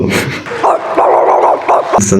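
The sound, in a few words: dog barking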